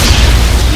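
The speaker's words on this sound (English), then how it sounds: "For the V move, it's Spirit Ball!" A loud, close booming blast from the Spirit Ball move in the Roblox game Sailor Piece, a single dense explosion filling the whole short moment.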